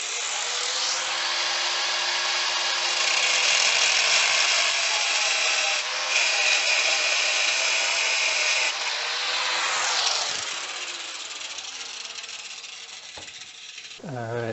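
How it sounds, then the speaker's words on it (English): A power tool grinds metal tabs off a Z31 engine part, a loud, continuous, close abrasive whine that shifts in pitch as it bites and eases, then fades out near the end. "So I'm going to go ahead and just grind those off."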